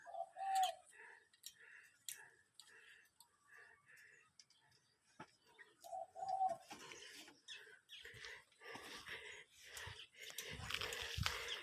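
A Thai dove used as a decoy coos in full, deep calls: one near the start and another around the middle, with faint birdsong and scattered ticking around them and brief speech near the end.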